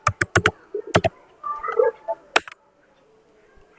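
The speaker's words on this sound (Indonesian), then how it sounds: "jika kita ingin mengetahui hostname-nya, kita bisa ketikkan perintah" Keystrokes on a computer keyboard enter a hostnamectl command on a Debian server virtual machine: quick bursts of sharp, close clicks, then a pause, a few scattered taps, a final click and near silence.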